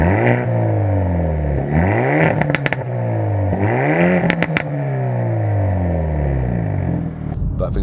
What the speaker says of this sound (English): The exhaust makes a wonderful noise.